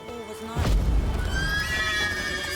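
A horse in the video game The Witcher 3 gives a single drawn-out whinny, preceded by a soft thump, heard close and moderately loud with no talk over it.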